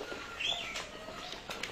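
Oriental magpie-robins calling at a bird market, a busy mix of chirps and whistles over steady crowd murmur and background clatter, moderately close.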